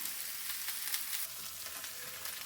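Burgers and bacon sizzle steadily on a Blackstone 22-inch E-Series electric griddle, a dense, even frying hiss heard close up with faint crackles and no talking.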